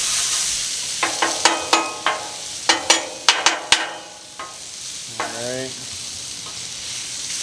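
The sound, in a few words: onions and mushrooms sizzling on a Blackstone griddle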